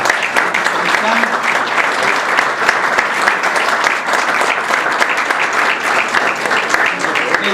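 Audience applause at a literary gathering for a writers' and poets' society in Chiapas, a dense, steady wash of many hands clapping that stays loud and even throughout, with a voice faintly present underneath.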